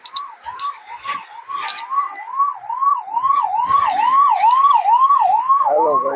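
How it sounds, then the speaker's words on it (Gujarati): An ambulance siren wails from behind a car travelling on a highway, its rising and falling tone repeating steadily and growing louder and more insistent as the vehicle draws nearer. "એમ્બ્યુલન્સ આવે છે પાછળથી"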